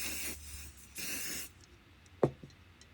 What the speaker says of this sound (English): spray the other side with some matte black paint